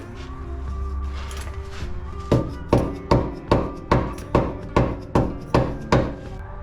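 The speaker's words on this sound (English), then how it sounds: "we can just hammer the other part out so we can extract the bolt from this way" A steady series of sharp, ringing rubber-hammer knocks on metal, about nine evenly spaced blows over a low mechanical hum, driving a bolt out of a control arm on a VW Super Beetle.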